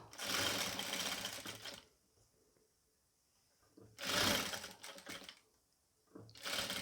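A sewing machine stitching piping onto a pleated nighty runs in three bursts of rapid, even mechanical chatter, loud and close, separated by quiet pauses.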